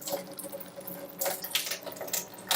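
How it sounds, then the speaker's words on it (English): Water poured out of a jar of sprouting seeds, an irregular splashing and trickling run of bursts that swells and fades, close and fairly quiet, with no talk. "So, filled it up with water, and then I'm just going to pour that water out."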